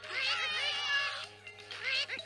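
A house cat meows close by, two drawn-out wavering calls with a short pause between them.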